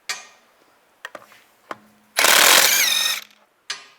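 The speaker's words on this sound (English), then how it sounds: "Take these lug studs out." Lug nuts come off a 2004-2010 BMW X3 rear wheel with a 17mm socket: a few sharp metallic clicks and knocks, then a loud one-second burst of impact-wrench whirring that stops abruptly, followed by another clank.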